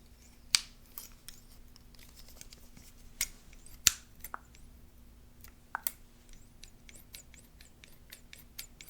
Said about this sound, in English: I got some scissors